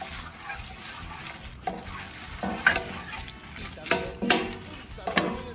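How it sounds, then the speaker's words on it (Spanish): Dried chilies and small mushrooms fry in a hot pan, sizzling steadily while a utensil stirs and scrapes in several distinct strokes, close and clear. "Y luego voy a ocupar medio platito de chile seco. Vamos a ponerle también para que se vaya friendo."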